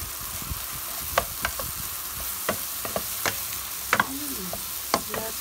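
Minced garlic frying in a pan for pork shoulder steak with mushroom sauce, a soft continuous sizzle broken by scattered clicks and scrapes of a utensil stirring, close and fairly quiet, with no talking.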